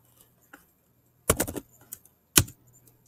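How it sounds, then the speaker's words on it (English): Keys clatter on a computer keyboard in two short bursts of quick keystrokes, with faint isolated taps between them in an otherwise quiet room. "So if I type in Monty as a username"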